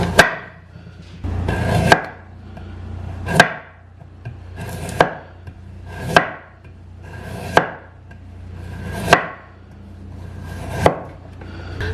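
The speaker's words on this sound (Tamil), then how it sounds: "ஸோ இப்போ நாங்கள் ஜூலியன் பண்ணி எடுப்போம்." A knife cuts carrots into thin julienne strips for coleslaw on a wooden board, with about eight loud, evenly spaced chops and a short scraping slide after each stroke.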